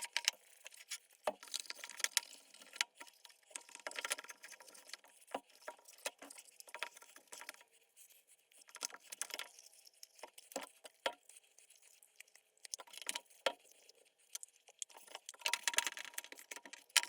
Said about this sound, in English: Man, it's raining heavily outside.